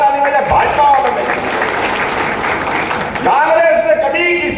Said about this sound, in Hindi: जोरदार ताली बजाए भाजपा वालों ने